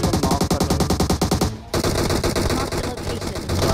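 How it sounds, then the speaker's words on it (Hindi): Loud, close automatic gunfire in the mobile shooter BGMI fires in a fast, even burst of rapid shots, stops briefly, then gives way to further sustained firing and game noise. "कहां से गोलियां चल रही हैं"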